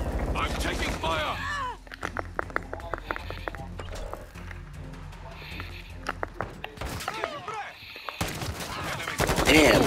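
Automatic and single gunshots crack in bursts during a Hardpoint match in Call of Duty: Modern Warfare II, sharp rapid reports interspersed with game voice lines and player chatter, growing louder toward the end.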